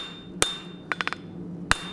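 Hot steel being forged into a hardy tool on an anvil, struck by a hammer in sharp ringing blows: one single strike, a quick cluster of three lighter taps, then another single hit, loud and close.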